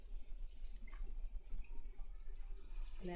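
Water sprays softly and steadily from a salon sink hose while hair is rinsed, a faint continuous hiss and trickle with no voices.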